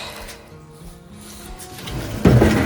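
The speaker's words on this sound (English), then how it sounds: "put our screen door on top of it." A screen door set down on top of a wooden box, a soft rubbing scrape followed by a sudden louder knock and clatter near the end, recorded close up.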